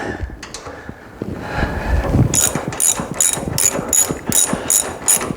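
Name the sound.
ratchet tightening KYB shock bolts on a Mustang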